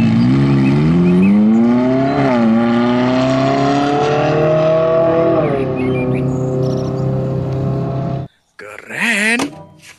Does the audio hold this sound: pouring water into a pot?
no